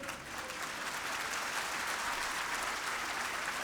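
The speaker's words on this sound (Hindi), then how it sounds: "तालियों में अभी दम नहीं है।" Steady audience applause at a spiritual lecture in a hall, a dense wash of many hands clapping continuously at moderate loudness with no voices over it.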